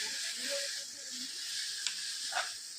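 A pot of water with tea powder boiling on the stove gives a steady soft hiss with faint bubbling, quiet and continuous and heard close up.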